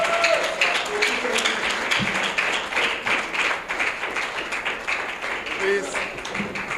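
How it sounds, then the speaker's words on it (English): Audience applause after a speech about Nigeria, a steady broadband patter of clapping running throughout with voices and shouts over it. "Please, another round of applause"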